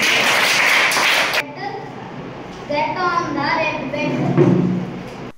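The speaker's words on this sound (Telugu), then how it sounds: "క్లాప్స్ అందరూ." Schoolchildren in a classroom clap together in a short burst of dense, close applause that stops abruptly, followed by children's voices talking.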